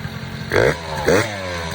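A motorcycle engine is blipped twice during carburetor tuning for throttle response, each short rev rising and falling quickly over a low idle, close by with no talking.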